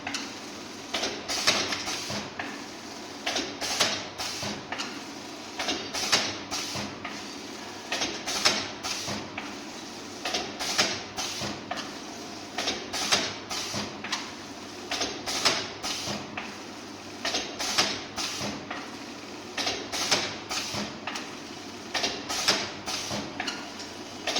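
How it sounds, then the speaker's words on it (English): An MK 211 small pouch packaging machine with a horizontal sealer and batch cutter runs steadily, its close mechanical clacks and ticks repeating in a fast, regular rhythm with periodic louder strokes, no voices. "Now you can start the batch cutter. So now after every 10 pouch it will cut."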